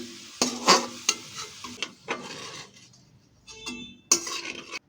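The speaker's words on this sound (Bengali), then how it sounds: "আলুটাকে ভালো করে ভেজে নেব" Potatoes fry in hot oil in a pan, a soft sizzle broken by several sharp clinks and scrapes of a metal spatula stirring against the pan, then a brief quieter pause before more stirring.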